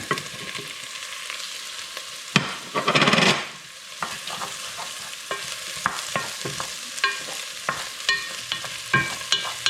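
King oyster and baby bella mushrooms fry in a pot at the start of a kimchi jjigae, crackling and sizzling up close, with a burst of louder hiss early on and scattered clicks and pops as they settle.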